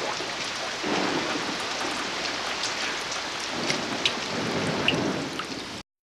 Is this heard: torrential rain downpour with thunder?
yes